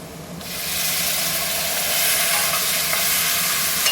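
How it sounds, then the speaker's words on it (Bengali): Potatoes frying in plenty of oil as spice goes in and is stirred, a loud, steady, broad sizzle that swells after a brief quieter start and holds close and continuous, with light stirring scrapes and no voices. "আমার আলুটা লাল লাল করে ভাজা হয়ে গেছে ঢাকা তেলে। এবারে আমি যে মশলাটা আপনারা দেখিয়েছিলাম সেই মশলাটা দিয়ে দেবো।"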